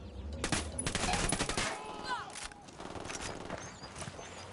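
Automatic gunfire bursts in the Ghost Recon Wildlands video game, loud and dense at the start, then thinner scattered shots with game effects continuing in the background.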